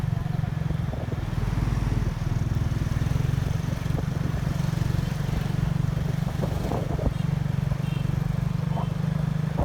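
A rented motorbike hums along steadily on the road toward Hlegu Park in Myanmar, its engine droning close and constant with faint road clatter.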